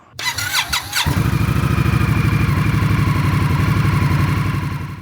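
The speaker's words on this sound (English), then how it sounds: "Introducing the newest bike in the family." A motorcycle, likely a 2016 Indian Scout 60, starts up with a brief squeal and clatter and then settles into a loud, steady, close idle with a rapid even throb.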